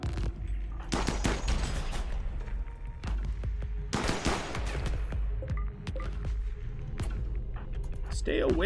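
Rapid bursts of submachine gunfire from feral SMGs crackle in the RimWorld colony game, loud volleys repeating in clusters with short gaps, under a steady low background hum.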